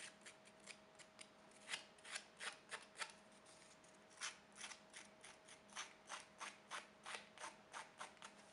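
Scissors snip steadily around a paper frame for a craft, making a long run of quick, crisp cuts close to the microphone in a quiet room.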